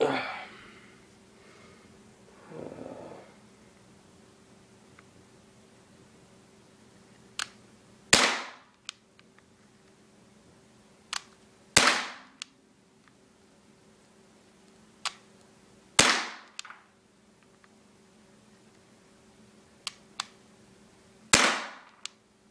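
A WG Full Metal M84 CO2 air pistol fires five sharp, loud cracks, spaced a few seconds apart against a quiet background, with brief low rustling early on.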